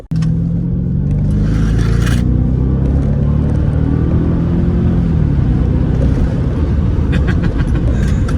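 A 1998 Mercedes W210 E55 AMG with the M113 engine runs steadily at low volume, a smooth continuous rumble with a faint hum and some brief higher rattles and hiss along the way.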